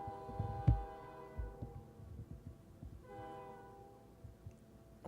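A train in a Minecraft Skywars game rumbles along with a sustained horn tone sounding twice under low, steady rail clatter.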